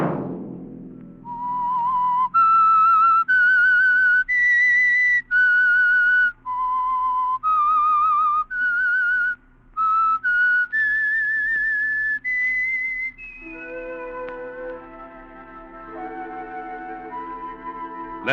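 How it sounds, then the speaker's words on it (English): A lone whistled melody from an old radio mystery program, clear and close, with sustained notes in a slow tune, then shifting into a fuller musical passage at the end. "Let that whistle be your signal for the Signal Oil program"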